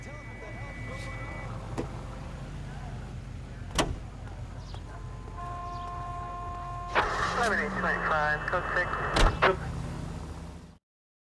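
A police car drives through the streets in the video game L.A. Noire, its engine a steady low hum with occasional knocks and clunks. Voices talk over it throughout.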